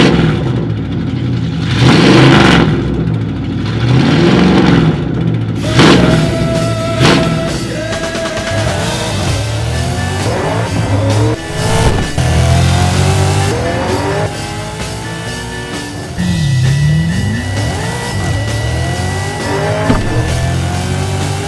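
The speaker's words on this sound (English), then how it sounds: "a 455 cubic inch V8 pumping out over 500 pound feet of torque" A 1970 Buick GSX with a 455 cubic inch V8 roars loudly, revving and accelerating in rising and falling sweeps, with screeching tires and racing passes mixed with music throughout.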